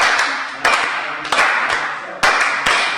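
Hands clap a steady rhythm together in a group, sharp claps recurring at a moderate, regular pace, close and clear, alone without talk.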